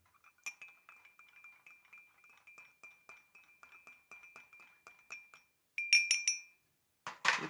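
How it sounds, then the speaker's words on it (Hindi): Glassware clinking softly in a chemistry lab as distilled water is prepared for Fehling's solution, a steady series of faint ticks and taps followed by a few brighter, louder glass chimes and a brief rustle at the end. "तो इसमें हम ये जो डिस्टिल्ड वाटर है डालेंगे।"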